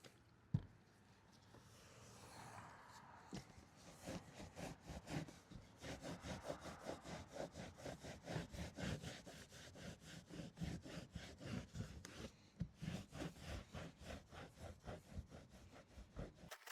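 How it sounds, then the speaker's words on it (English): A rag wiped with rubbing alcohol across an RV roof surface, steady rhythmic rubbing and scrubbing strokes, close and moderately loud, with no talking. "So all I use is a rag and some rubbing alcohol. So we're gonna get this surface cleaned so we can get the new sealant down."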